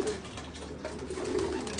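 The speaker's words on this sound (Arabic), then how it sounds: "اكو حمام جوال جدا مميز" Pigeons in a loft give soft low coos against a dense background of fluttering and shuffling birds, close and continuous.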